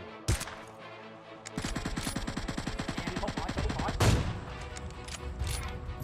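Sniper rifle shots in the mobile video game PUBG Mobile: two sharp, loud cracks stand apart, with a fast, rattling run of rapid gunfire filling the stretch between them.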